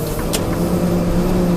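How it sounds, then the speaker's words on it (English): A heavy freight truck's engine drones steadily at low pitch, laboring without much rise in revs, close and continuous with no talk. "Is this freaking truck gonna accelerate or not?"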